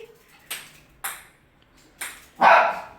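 A pet dog gives four close, sharp barks spaced about half a second apart, the last one louder and longer, with no talk around them.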